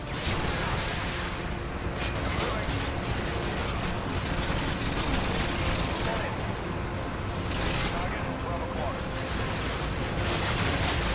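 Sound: gunfire in video game Call of Duty Modern Warfare 2

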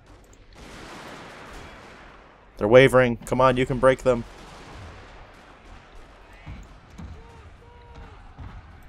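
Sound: Armstrong gun artillery fire in Total War: Shogun 2 video game

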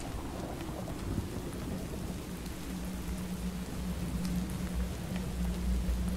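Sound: thunderstorm with rain in video game From The Fog

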